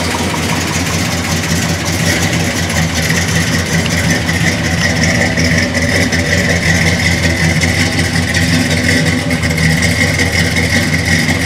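A 350 crate motor in a 1969 Chevelle idles steadily and close by, a dense, even rumble holding through the whole stretch with no voices over it.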